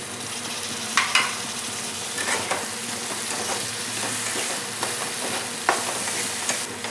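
Spiced chicken with chopped tomato is stirred in a hot pan, giving a continuous sizzle broken by scraping strokes and a few sharp clatters of the utensil against the pan, with no voices.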